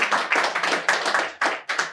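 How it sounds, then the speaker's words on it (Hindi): A live performance audience claps in a burst of uneven, overlapping hand claps, close and lively, with no voices over it. "ज़ोरदार तालियाँ एक बार।"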